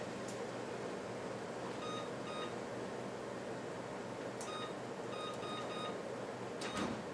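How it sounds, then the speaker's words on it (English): Kitchen timer being set during the cooking of a macaroni salad in a large pot: short electronic beeps in two quick bursts, faint against a steady room hum, with no talking. "Set the timer for 10 minutes."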